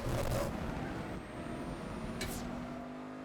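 A standard sedan in the video game Saints Row drives with a low, steady engine drone at moderate, somewhat muted volume, with a short whooshing pass near the middle.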